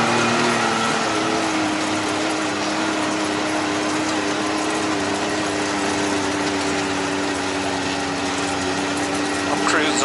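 Can-Am Defender Max and X3 Max side-by-sides cruise through windblown snow at about 11 mph and 4,000 RPM, giving a steady, continuous engine drone with a mechanical whine that stays at an even level throughout.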